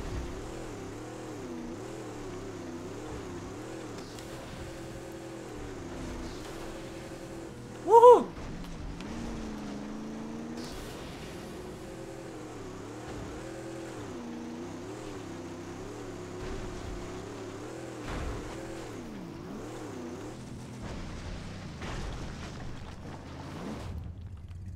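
A steady car engine drone with rising and falling pitch, heard while driving in the video game Mad Max. One brief sharp bang sounds midway, and faint talk is mixed in.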